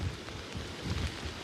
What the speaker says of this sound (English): it has been extremely heavy wind and heavy rain pretty much for hours this morning